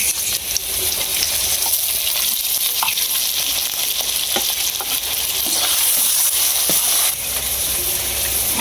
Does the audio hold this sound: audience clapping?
no